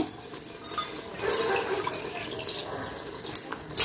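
Water pours into a cooking pot in the kitchen as a soft, quiet trickle and splash, with a couple of brief louder clinks along the way.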